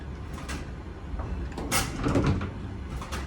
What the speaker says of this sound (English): That's a very heavy gate.